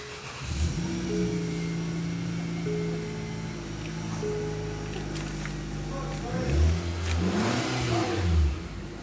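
A modified Nissan Kicks engine idles and revs repeatedly through its exhaust at SEMA 2024, rising and falling in pitch, with a louder burst near the end and faint talk underneath.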